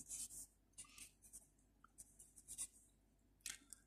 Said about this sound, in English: let me just write the word thing here